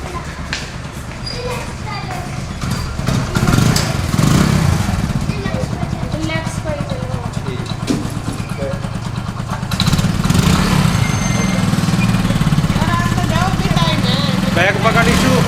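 A motorcycle engine runs steadily at close range, a continuous mid-pitched drone with slight surges, while people talk over it in a home setting.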